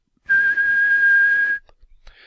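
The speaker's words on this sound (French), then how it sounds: "par exemple un sifflement" A single steady whistled tone held for over a second, close and clear, followed by a couple of faint short sounds.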